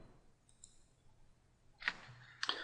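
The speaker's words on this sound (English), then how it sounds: "let's start by clicking on the Quotes button on the top row" Mouse click on a software Quotes button: two quick, sharp clicks close together near the end, faint and alone against a quiet room.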